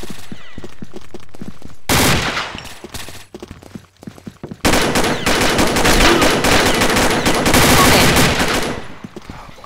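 Rapid bursts of automatic gunfire from a video game weapon, loud and close, with a short burst, a pause, then a long sustained stretch of fire.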